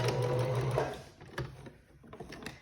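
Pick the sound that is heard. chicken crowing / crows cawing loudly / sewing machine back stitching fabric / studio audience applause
sewing machine back stitching fabric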